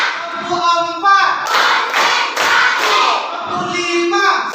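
A school class claps out a rhythmic tepuk pattern in unison, sharp group claps in short bursts mixed with children's chanting voices, loud and close.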